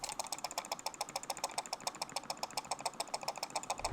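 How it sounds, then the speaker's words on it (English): Rapid rattling clicks from the loose scroll wheel of a Gamesense Meta computer mouse, a fast steady ticking close to the microphone, heard alone. "But of course it is rattly."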